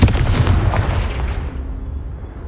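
A Confringo blasting spell goes off in the Hogwarts Legacy video game, a loud booming burst with several quick cracks up front, then a rumbling tail that slowly fades.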